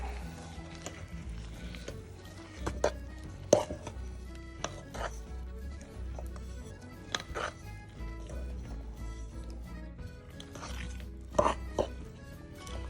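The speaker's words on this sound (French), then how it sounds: "Nous allons maintenant ajouter nos pistaches, nos éclats de pistache dans la pâte et bien mélanger." A utensil works pistachio pieces into matcha pound cake batter in a bowl, with irregular close scrapes, soft thuds and a few sharper knocks against the bowl over a low steady hum.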